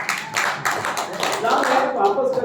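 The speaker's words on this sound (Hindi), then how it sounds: "इनके लिए तालियां बजनी चाहिए।" A group claps together in a mixed burst of hand claps with talk running over it.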